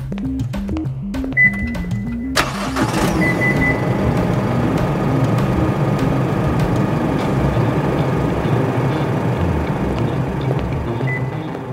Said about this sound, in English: Let's hear it using the new, pretty cool remote engine start feature.